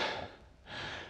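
Heavy, ragged breathing right after a hard rowing machine interval, with loud gasping exhales and inhales in two close bursts separated by a brief lull, alone without talk.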